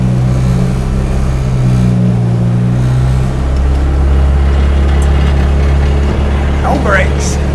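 A 1964 International Harvester Scout, abandoned for about 40 years, idles with a steady low rumble and a deep droning hum, loud and close, while a voice talks faintly over it.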